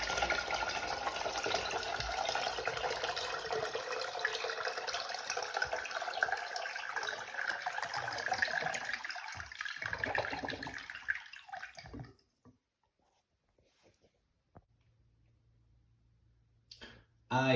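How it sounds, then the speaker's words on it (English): A full-tank mega flush of a toilet on a new base, a loud rushing gurgle of water for about twelve seconds that cuts off abruptly into near silence, followed by a faint click. "here we go with a flush, a full tank mega flush for this new base right here"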